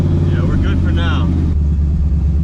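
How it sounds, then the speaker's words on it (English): A Chrysler Conquest widebody with a V8 swap idles and rumbles steadily on a test run, with a low continuous engine drone throughout and brief whistling tones near the start. "I'm going to take this out for a test run, make sure it's roadworthy"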